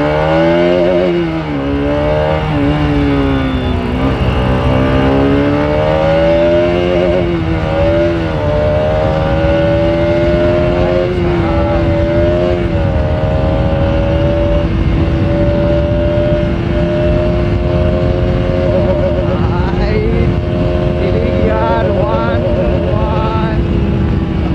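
A vehicle engine held in third gear revs hard and steadily for a long stretch, its pitch climbing and sagging without ever shifting higher, loud and close throughout with a voice heard faintly beneath it.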